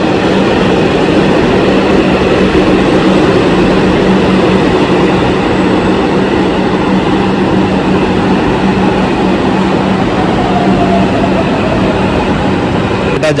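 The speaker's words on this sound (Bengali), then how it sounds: "মেট্রো ঢুকছে দমদম ক্যান্টনমেন্ট মেট্রো স্টেশনে" Kolkata metro train entering Dum Dum Cantonment station on a pre-trial run toward the airport, a loud continuous rumble and roar that holds steady throughout with a faint high whine, and a voice talking over it.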